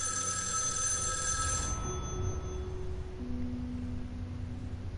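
Telephone ringing in a horror video game set in an asylum, a bright electronic ring that sounds for under two seconds and stops, leaving low ambient hum and faint tones, no voices.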